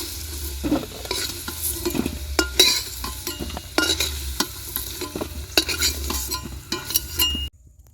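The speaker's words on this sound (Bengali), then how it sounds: "এইবার আলুটা তুলে নেব।" Fried potatoes being stirred and lifted out of hot frying oil in a home kitchen while cooking chicken pulao, with a steady sizzle and close clinks and scrapes of a metal spoon against the pan, then sudden silence.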